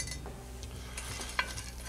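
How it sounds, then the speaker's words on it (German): Pumpkin seeds toast in a hot pan, giving a faint, quiet crackle and light rustling as they are stirred, with one brief sharp clink of a utensil partway through. "Hier werden wir uns jetzt noch ein paar Kürbiskerne kurz drin anrösten."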